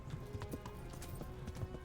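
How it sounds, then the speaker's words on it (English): Horse galloping in the video game Kingdom Come: Deliverance, a steady run of close hoof clip-clops at a quick rhythm over a low game soundscape. "Riding the horse is pretty natural, but the gallop thing throws me off."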